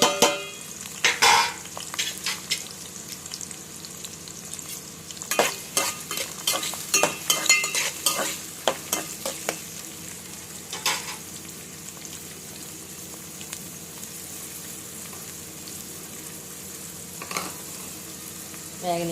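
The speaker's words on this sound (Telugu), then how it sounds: "అందులో ఆనియన్స్ ముక్కలు వేసేద్దాం." Onion pieces fry in hot oil in a pan for mutton curry, giving a steady close crackling sizzle, with bursts of spatula scraping and clattering early on that give way to continuous frying.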